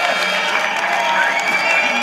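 Crowd applause with some cheering at a youth service pass-out ceremony on an outdoor showground, a steady, dense wash of clapping and voices that holds evenly throughout.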